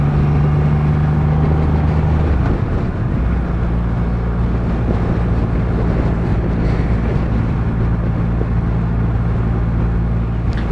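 A 2021 Triumph Rocket 3 R/GT motorcycle engine rumbles deep and steady at close range under wind noise while riding, its low drone shifting in pitch after a couple of seconds.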